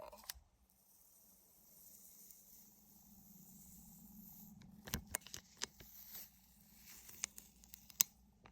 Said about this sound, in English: I'm going to gently take and peel the contact paper off.